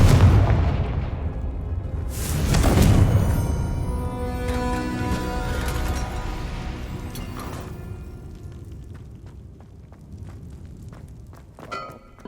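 Confringo fire spell explosions in Hogwarts Legacy, a few loud booming blasts with ringing, crackling tails that fade away, followed by scattered smaller pops and impacts.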